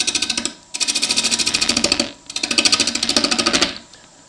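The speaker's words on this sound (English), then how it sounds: "So I'm going to use the Sorby 1/2 inch bowl gouge. Speed the lathe up a bit." A wood lathe spins a sapele bowl blank while a Sorby 1/2 inch bowl gouge cuts it. The cutting makes a rapid, rhythmic chattering in two long close-up bursts separated by a brief pause.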